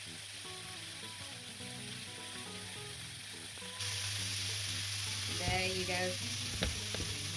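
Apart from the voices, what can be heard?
bacon frying in a pan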